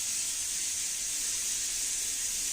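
A pressure cooker releases steam in a continuous, even hiss, close and steady throughout without any break, with no talking.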